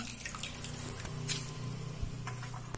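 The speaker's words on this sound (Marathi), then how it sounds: "आता आपण ती पाणी काढून अशी पिळून घेणार, असं पाणी काढून घेणार त्याचं" Soaked chopped kanak bamboo shoots are squeezed by hand, giving soft wet squishes and irregular dripping and trickling of water into a vessel, close and fairly faint.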